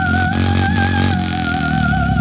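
Motorcycle exhaust pipes rev loudly up close with a deep, throaty rumble that holds and swells slightly, alone with no talk.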